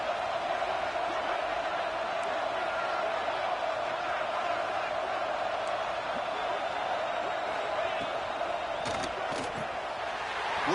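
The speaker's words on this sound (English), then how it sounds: "they'll have to conquer this crowd noise" A stadium crowd in the NCAA 26 college football video game roars in a steady, dense wall of noise that holds for the whole stretch ahead of a game-deciding two-point try.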